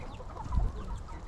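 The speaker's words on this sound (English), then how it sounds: "Most of the chickens that are in that coop over there," Chickens cluck softly inside a backyard coop on a rainy day, a few scattered low clucks over steady background noise, fairly close and unhurried.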